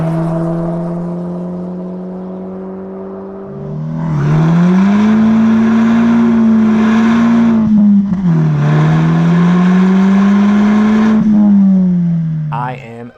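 A Volkswagen MK6 GTI with a Rev9 aftermarket catback exhaust idles, then revs up and holds a loud, deep exhaust drone, dipping briefly before revving again and settling back down.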